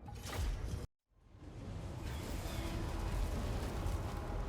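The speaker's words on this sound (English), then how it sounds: "then the Doom Cannon exploded" In Total War: Warhammer 2, a loud rumbling blast cuts abruptly to silence, then a deep roaring explosion of a Doom Cannon swells back up and sustains with crackling debris and low rumble.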